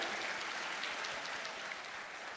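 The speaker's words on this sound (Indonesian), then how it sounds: "tepuk tangan Fakultas Kedokteran, mahasiswa kedokteran" Medical faculty students applaud in a steady, dense wash of clapping that sounds fairly distant and soft, with no talk over it.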